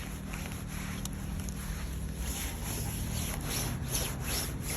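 Continuous soft rustling of synthetic camouflage suit fabric rubbing against itself, steady and close, with faint scraping textures throughout.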